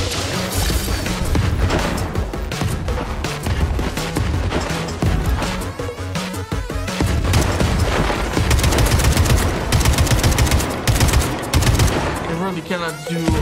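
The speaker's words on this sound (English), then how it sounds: "Cannot do lengthy shots with the AK at long distance." Sustained bursts of AK assault rifle fire in the shooter game Atomic Heart, loud and dense with rapid repeated shots and crashes running almost continuously, and a voice speaking occasionally over the gunfire.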